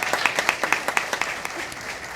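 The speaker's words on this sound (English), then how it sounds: "So round of applause, very, very well deserved." Applause at a school board meeting, a short burst of distinct hand claps from a small group, fairly close and steady before thinning out.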